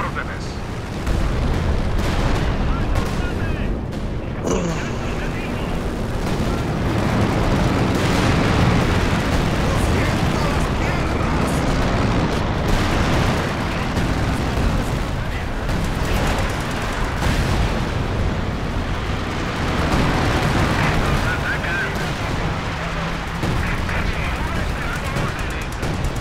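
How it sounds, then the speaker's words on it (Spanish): Company of Heroes 2 battle with 120 mm mortars firing, heavy explosions and gunfire rolling continuously for nearly half a minute, loud and dense, with repeated booms over a constant din. "Yo le he tirado los morteros de 120 que hay ahí atrás."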